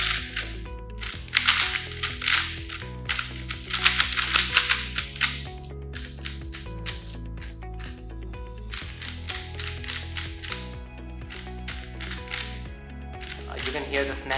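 A GAN 12 MagLev speed cube turned in quick bursts of sharp, snappy clicks, close and crisp, with a steady musical background beneath.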